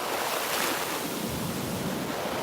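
Ocean surf washing in steadily at a beach in the Dominican Republic, a continuous close roar of breaking waves with rushing foam and some wind buffeting the microphone.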